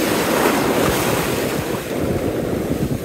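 Ocean waves break on a beach during surf fishing, a loud, continuous roar of surf with heavy wind rumble on the microphone throughout.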